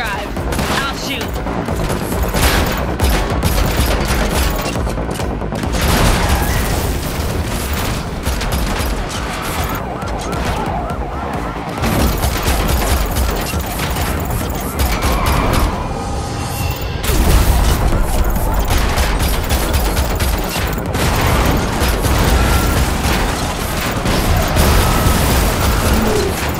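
Gunfire crackles in dense bursts during a car chase in The Matrix Awakens video game, mixed with police sirens and engine noise, loud and continuous.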